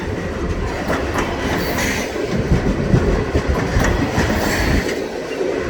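A freight train made up of grain cars and buffer cars rolls steadily past, loud and close, with wheels clacking and rumbling and faint metallic squeals throughout.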